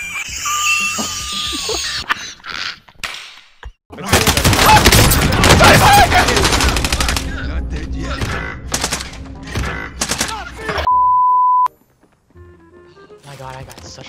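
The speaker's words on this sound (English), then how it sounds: "And then I get shot in the back." Rapid automatic gunfire and explosions in the online shooter Call of Duty Warzone, loud and dense bursts with game tones and effects around them, under brief player speech.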